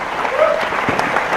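An audience claps for graduating students at a Centennial College convocation ceremony, a dense, steady burst of applause filling the hall throughout.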